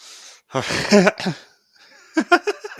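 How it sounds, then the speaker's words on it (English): A short burst of coughing and throat noise, then a few sharp, rapid breathy bursts close to the mic, no words spoken. "That shocked me. I had to cough."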